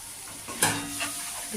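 Spices with Kashmiri chilli powder and turmeric sizzle as they are sautéed for a pomfret curry, a short stir scrape followed by a brief sharp hiss that settles to a soft frying crackle; no talking.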